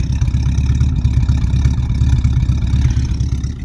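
A Pontiac Chieftain engine with a cherry bomb exhaust runs close and loud, a steady low, throbbing rumble with no voices.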